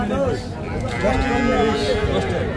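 Cattle and young calves low and bleat at a crowded livestock market, short calls rising over a dense background of people talking close by.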